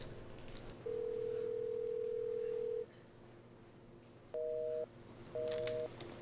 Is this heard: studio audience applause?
no